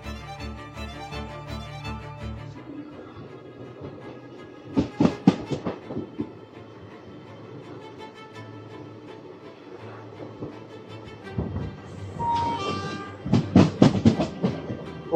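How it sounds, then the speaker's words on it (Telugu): An intercity train on the Koraput–Visakhapatnam line through the Eastern Ghats pulls away and runs, with a low rumble, rhythmic clickety-clack of wheels over rail joints, and bursts of loud metallic clatter, heard from on board. "మన ఇంటర్సిటీ అయితే స్టార్ట్ అయింది."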